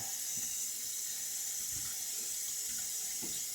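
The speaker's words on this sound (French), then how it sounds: "On va ouvrir l'eau parce qu'ils disent de rincer." A kitchen or bathroom tap runs steadily while hands are rinsed under it, a continuous hissing water flow with soft splashing bumps, close and alone with no voices.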